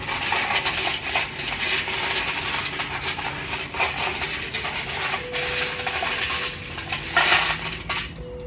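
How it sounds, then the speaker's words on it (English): Shells rattle and clatter continuously inside a loud bucket, a dense close metallic jangle lasting several seconds with occasional sharper clinks. "I'm about to do some shells, which the bucket can be kind of loud."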